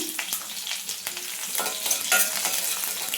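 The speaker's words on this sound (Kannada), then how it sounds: "ಇವಾಗ 1-2 ಒಣಮೆಣ್ಸಿಕಾಯಿ ಹಾಗೆ ಕರಿಬೇವನ್ನ ಹಾಕ್ಕೊಳ್ತಿದ್ದೀನಿ" Dried red chilies and curry leaves crackle and sizzle in hot oil for radish sambar, a continuous bright frying hiss with pops and stirring.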